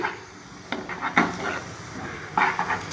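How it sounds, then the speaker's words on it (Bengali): Spices being sautéed and stirred in a frying pan: a metal spatula scrapes and clinks against the pan in irregular strokes over a faint low sizzle, close by. "আমি মশলাগুলো এবার কষাতে থাকবো"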